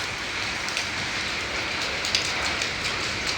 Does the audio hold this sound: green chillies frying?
no